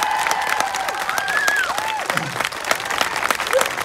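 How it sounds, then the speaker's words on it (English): Steady, dense applause from a crowd at the Bicton 5* cross-country eventing competition honouring the top three riders, clapping mixed with some cheering and whistling, sustained and fairly close throughout. "Let's give them a round of applause"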